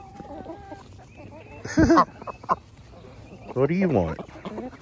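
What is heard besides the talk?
chickens clucking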